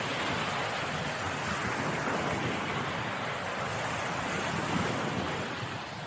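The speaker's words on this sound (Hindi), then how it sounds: "समुद्र की लहरों का शोर" Sea waves breaking as continuous white noise, a broad steady roar of surf with slow swells in loudness and no other sounds.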